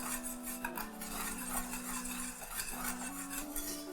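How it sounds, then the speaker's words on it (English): Whisk stirring dry okra powder into a pot over low heat, a steady close scraping and swishing with faint clinks of metal on the pot, continuing throughout without speech. "So I'm going to get a whisk, and I'll just whisk in my dry okra."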